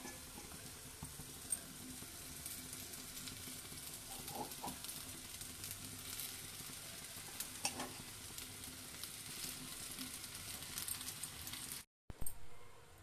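Pasta coated in masala is stirred in a frying pan, a steady close sizzle with soft scraping and turning sounds and a brief cut near the end.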